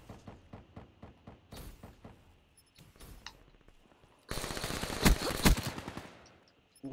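AK rifle gunfire in the shooter game Call of Duty Black Ops 3: a run of separate sharp shots, then a dense, loud rapid-fire burst, with mechanical clicks between the volleys.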